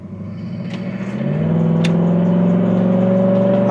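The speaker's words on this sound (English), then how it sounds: "400 runs really good after Brant got done with it" A 1967 Buick GS 400 V8 idles and then revs up, settling into a steady, loud, close engine drone with a deep rumble and no talking.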